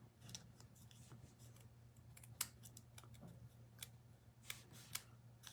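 Small scissors snip through paper during rubber-stamp card crafting. Several quick, crisp cuts come at irregular intervals, close by but quiet, over a faint steady hum, with no talking.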